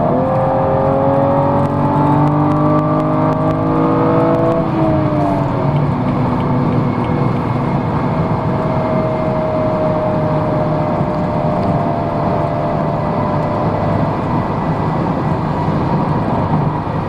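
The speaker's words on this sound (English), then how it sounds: "Everything you imagine a silky smooth inline 6 would sound." A BMW 435i convertible in sport mode revs its smooth inline-six engine, the pitch climbing steadily and then settling into a sustained, even drone, heard from inside the cabin without any talking.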